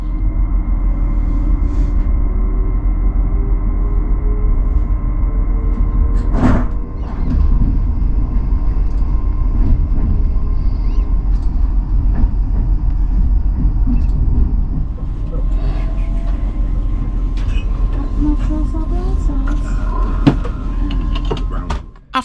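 LNER train departing Bradford for London, a loud steady rumble from inside the carriage with continuous low mechanical drone, occasional clunks and creaks, and a brief sharp knock partway through.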